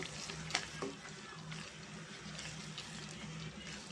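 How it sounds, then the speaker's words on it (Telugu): Masala mixture for a mango fish curry stirred in a pan, with a steady frying sizzle and occasional utensil scrapes and clicks, moderately quiet with no talk. "ఇప్పుడు ఈ మసాలా అంతా మనం ఈ మిశ్రమానికి పట్టే వరకు మనం మంచిగా కలుపుకుందామండి"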